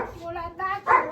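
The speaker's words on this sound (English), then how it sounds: "I have a dog." Dog barking indoors behind a door, a few muffled, moderately close woofs and yips in quick succession, with a person speaking nearby.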